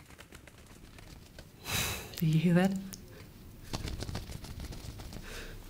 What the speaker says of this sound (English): Other animals that we often do would be birds, bird flaps. You can do them with a piece of leather cloth,